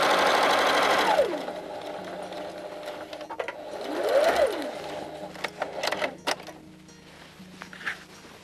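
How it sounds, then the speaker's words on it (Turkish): A sewing machine stitches a fabric table cover, running in close bursts that rise and fall in speed, with pauses, faint clicks and handling noises between runs. "dikiş çekiyoruz."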